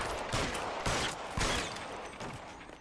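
Gunfire in the video game LA Noire, several loud close shots in quick succession over a dense, noisy background, with no talking.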